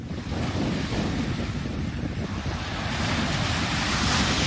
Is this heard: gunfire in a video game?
no